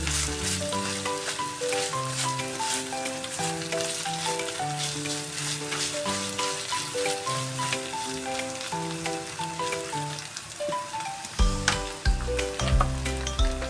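Chicken pastil fries and toasts in a pan with a steady, soft sizzle that runs throughout, partly masked by louder background music.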